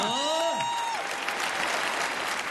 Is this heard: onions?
no